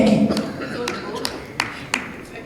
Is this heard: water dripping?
no